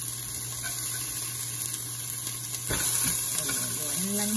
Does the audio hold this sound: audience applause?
no